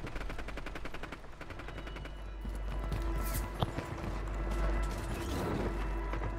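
Gunfire in a first-person video game with a four-player squad, rapid repeated shots in fast bursts over mechanical clatter and a low hum, fairly loud and close throughout.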